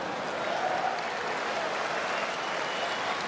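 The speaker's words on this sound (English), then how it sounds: "Always clapping for his guys." A basketball player clapping for his teammates after a missed shot at a Croatia versus Greece Olympic qualifying game, steady applause-like clapping blended with arena crowd noise throughout.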